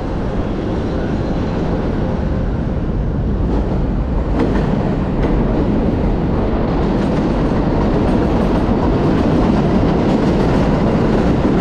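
A 7 elevated subway train passing overhead on Roosevelt Avenue in Queens: a loud, continuous roar rumbling close by, with a rattling clatter of wheels and metal that stays steady throughout.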